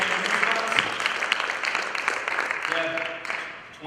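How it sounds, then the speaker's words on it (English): Applause for Tim at a Revolution 2018 live business event, moderate dense clapping from the audience sustained throughout with some voices mixed in, tapering at the end. "Round of applause for Tim"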